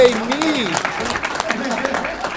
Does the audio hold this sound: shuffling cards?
no